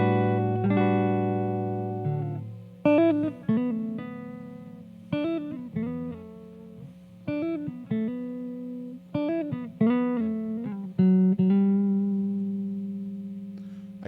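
A Godin Thinline 5th Avenue hollow-body guitar plays a run of strummed and picked chords with ringing sustained tones between choppy accented hits, clear and close, with no voices.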